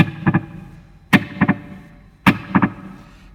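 A Gurus Echosex 2 T7E echo unit set to dotted-eighth repeats: three sharp struck notes, each followed by two quick fading echoes in a tight, regular pattern.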